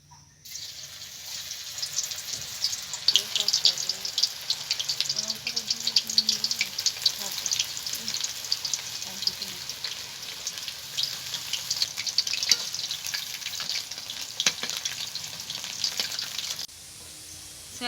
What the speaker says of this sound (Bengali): এবার সয়াবিনগুলোকে আমি ভেজে নেব।